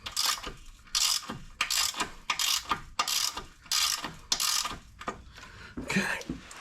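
A hand ratchet clicks in repeated bursts while bolts are tightened during a steering rack install on an SRT-4 Neon. There are about a dozen close, crisp ratcheting strokes in an irregular rhythm with brief pauses between them.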